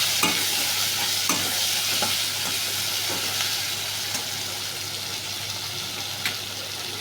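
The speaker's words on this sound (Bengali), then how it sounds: "এটাকে এবার নাড়তে থাকবো।" Chopped tomato frying and being stirred in a pan for an egg chilli dish, a steady sizzle with soft periodic scrapes of the spoon, close and continuous with no talking.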